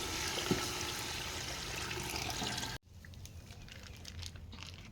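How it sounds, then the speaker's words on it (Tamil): Water is poured from a roughly one-litre bottle into a pot of rice for biryani, a steady close splashing and trickling that stops abruptly, leaving a fainter quieter background. "அடுத்து தண்ணி சேர்த்திக்கலாம்."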